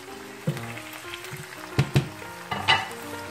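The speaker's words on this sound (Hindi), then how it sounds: "थोड़ा सा हम इसको भूनेंगे जी" Vegetables frying in a pan for a Kashmiri-style dish, a soft sizzle under a low tonal hum, broken by a few sharp clinks and scrapes of a spoon, close and alone without voices.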